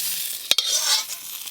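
Ginger, garlic and onion masala fries in a pan, crackling and sizzling steadily up close, with two sharp knocks of a utensil against the pan.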